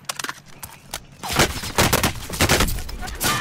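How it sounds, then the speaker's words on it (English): Rapid bursts of gunfire ring out in Call of Duty Warzone during a quads match, loud overlapping volleys and sharp shots carrying on steadily after a short quieter stretch of scattered pops. "Taking fire."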